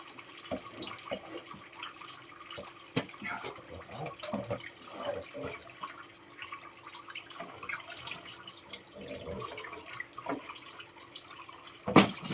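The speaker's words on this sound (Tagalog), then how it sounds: "Water pump na walang makina." Water flowing through a homemade motorless pump rigged to bail out water: faint, sparse trickling and light splashes that come and go, with a few sharper drips toward the end and no voices.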